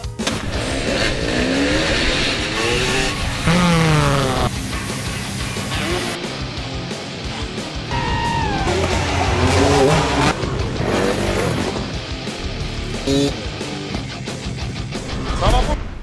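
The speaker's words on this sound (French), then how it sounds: "ça c'est la Alta, la moto électrique." An Alta Redshift MXR electric motorcycle rides with a rising and falling motor whine, loud and close, mixed with other sound and a voice speaking over parts of it.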